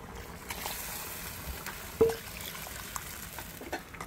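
Water poured into a pot of cooking potatoes with something spicy, a steady watery rush with a small clink partway through, moderately quiet and without talk.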